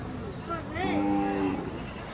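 Cattle at a livestock market, one cow giving a drawn-out moo close by over a busy background of crowd noise and people talking.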